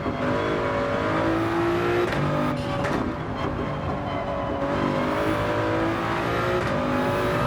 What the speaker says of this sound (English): Full throttle down by the cottages here in the Toyota Supra